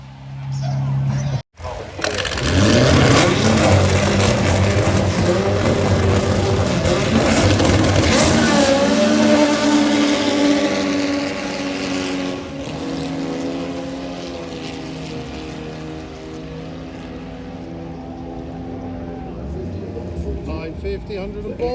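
Front-wheel-drive European doorslammer drag cars, one a VR5 turbo, roar off the line and accelerate hard down the strip, a loud sustained engine howl with a missed shift, under an announcer's commentary.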